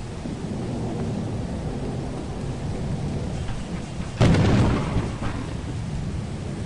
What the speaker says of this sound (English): That's really strong lightning and thunder shaking the ship.